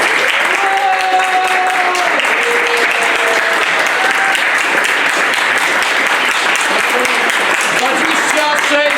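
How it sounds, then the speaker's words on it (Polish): Loud, sustained applause from an audience at a charity kickboxing gala weigh-in ceremony in Mikołów, with an announcer's amplified voice and cheering rising over the clapping. "Wielki brawa!"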